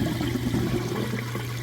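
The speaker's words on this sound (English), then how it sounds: "I'm draining that water out nice and fast." A Whirlpool Cabrio washer drains its water, giving a steady, even rush of liquid with a low pump hum beneath, continuous and close throughout with no voices.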